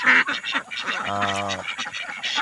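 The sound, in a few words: ducks quacking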